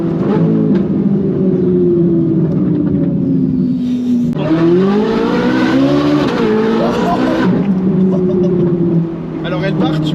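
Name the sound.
Ferrari 458 Italia V8 with IPE exhaust valves open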